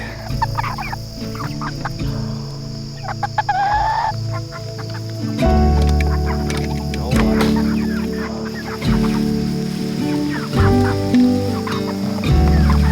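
A flock of Cornish Cross chickens clucks and murmurs continuously close by, with layered chatter and occasional louder squawks throughout.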